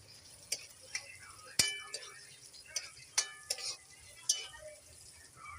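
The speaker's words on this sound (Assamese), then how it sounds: "পিঁয়াজ দি অলপমান পিঁয়াজটো ভাজি লওঁ" Onions fry in a pan on a gas stove under a soft sizzle. Sharp metal clinks and scrapes from stirring with a utensil come at irregular intervals.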